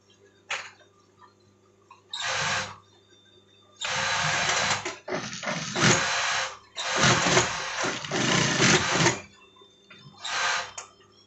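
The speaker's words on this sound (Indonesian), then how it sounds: "Nah, ini tinggal kita jahit ke sini ya." A sewing machine stitches the vent of an IAIN Pekalongan almamater jacket, running in several close bursts of a second or two each, separated by brief pauses and no talk.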